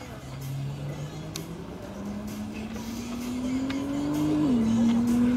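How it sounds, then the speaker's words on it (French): Engine of a GTR race car rising in pitch as it revs hard through wheelspin on a circuit at Clastres, loud and close with a steady climb over several seconds; a voice talks faintly underneath. "Il l'a fait patiner."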